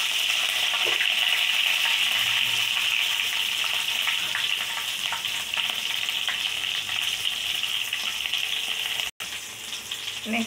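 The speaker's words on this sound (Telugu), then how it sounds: "నూనె వేసుకున్న తర్వాత నెక్స్ట్ ఆవాలు జీలకర్ర వేసుకోవాలి" Mustard seeds, cumin and curry leaves fry in hot oil with a loud, continuous crackling sizzle close by. A brief dropout comes near the end.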